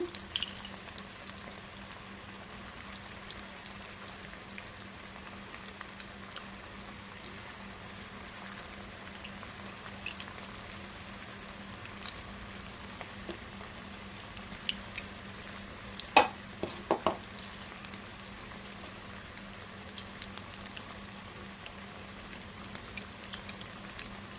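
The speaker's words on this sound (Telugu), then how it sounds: "మీడియం ఫ్లేమ్లో పెట్టి మంచిగా ఫ్రై చేసుకోవాలండి" Baby corn deep-frying in oil over a medium flame gives a steady, soft bubbling sizzle throughout, with occasional faint clinks and pops and no talking.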